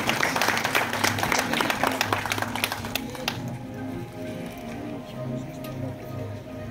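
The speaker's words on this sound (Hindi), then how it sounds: "जोरदार तालियां बजाएं" Loud, dense applause from a crowd at a film trailer launch event for about three seconds, then dropping to a quieter mix of lingering claps and low room noise.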